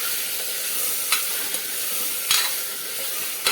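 Chickpea masala sautéing in a pressure cooker gives a steady, close hiss of sizzling with a few sharp scrapes of a spoon stirring, and no voices.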